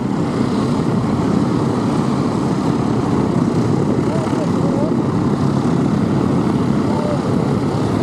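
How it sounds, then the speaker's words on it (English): A large RAF Chinook twin-rotor helicopter performs a flying display at the Duxford air festival, its steady, heavy rotor and engine roar filling the air continuously, with a commentator speaking over it. "The display you see really demonstrates how manoeuvrable this extremely large helicopter is."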